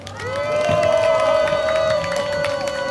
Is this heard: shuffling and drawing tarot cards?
no